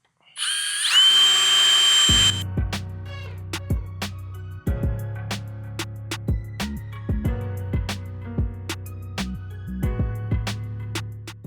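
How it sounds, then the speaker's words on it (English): A power drill whines at high speed, then drills pilot holes for roofing panels on a chicken tractor in a series of short, repeated bursts with brief pauses, close by and without talking. "We're gonna drill the pilot holes first."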